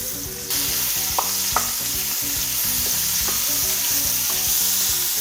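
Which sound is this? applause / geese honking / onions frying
onions frying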